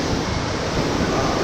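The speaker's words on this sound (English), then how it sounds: "we are spinning a lot in this water ride themed to noodles" Water rushing and splashing around a spinning raft on a Cup Noodles-themed rapids ride at Yomiuriland, Japan: a brief, close, steady wash of churning water with no voices.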